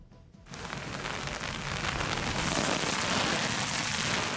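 Heavy autumn rain pours down in a dense, steady roar that swells after a quiet start, with a stormy rumble underneath.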